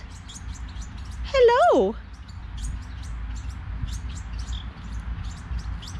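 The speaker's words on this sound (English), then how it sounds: "Look at all these baby-like house wrens." Several house wren fledglings in an outdoor aviary give faint, rapid, high chirps throughout, while a nearby person briefly speaks one word.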